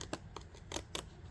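Scissors snipping through paper in short, crisp cuts, five or so quick bursts, close and fairly soft over a low steady background hum.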